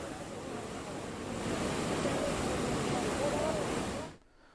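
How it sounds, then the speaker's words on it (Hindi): Fast, swollen Beas River floodwater in Kullu rushes past in a steady, loud broadband roar that swells slightly midway and then drops off abruptly near the end. "नदी में तेज रफ्तार से पानी बह रहा है।"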